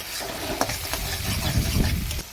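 Masala fried down with yogurt and sugar in a pan for Bengali doi katla, the rohu fish curry, with a steady sizzle and stirring scrapes close by, no speech.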